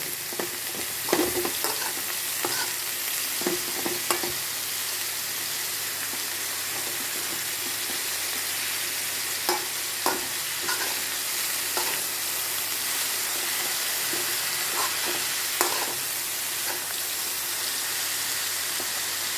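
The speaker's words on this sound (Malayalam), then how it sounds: "ഇതുപോലെ നന്നായി ഇളക്കുക" Spinach thoran fries in a pan while being stirred, a steady close sizzle broken by intermittent scraping and tapping of the spoon against the pan.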